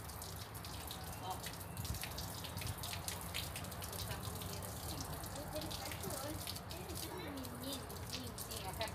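Water runs steadily from a tap or hose while a dog is washed, a continuous splashing wash under frequent talking.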